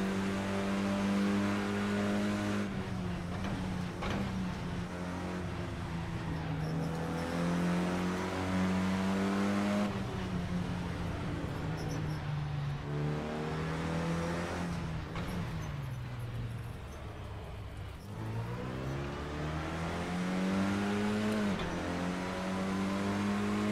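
A Renault Clio Cup race car engine at Long Beach Raceway in Assetto Corsa drones loudly and steadily, its pitch climbing and then dropping sharply at several gear changes.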